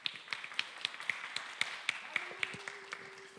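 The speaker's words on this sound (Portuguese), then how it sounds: "Aplaude o Senhor pela vida do Lucas, gente." A church congregation claps in a steady rhythm of sharp, fairly faint claps, roughly three or four per second. A low held tone comes in partway through.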